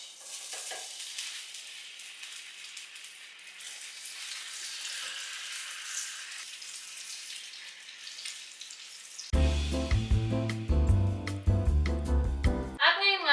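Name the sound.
ham frying in a little oil in a hot pan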